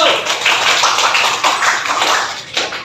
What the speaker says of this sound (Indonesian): Mari kita kasih aplaus untuk kelompok 1.